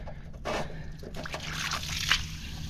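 Water trickles and splashes out of a leaking fishing boat through a crack at a hull seal, spilling onto a car park. The flow is close and irregular, with a brighter splash near the end.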